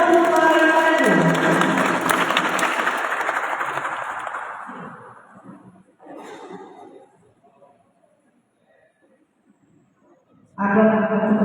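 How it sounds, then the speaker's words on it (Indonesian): Applause and cheering from an audience for competing teams at a semifinal competition event, loud at first and fading away, with a brief crowd swell after it and a voice speaking at the end. "Kita berikan aplaus dulu untuk para Regu."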